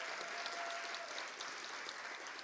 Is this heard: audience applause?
yes